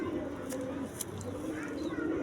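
A high flyer pigeon in Karachi coos softly in a few low, throaty bursts against a steady background hum, fairly close but quiet.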